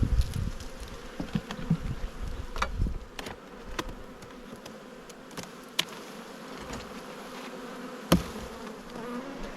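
Honey bees buzz steadily during an Australian hive inspection, a close, dense hum with scattered sharp clicks and taps from handling the frames.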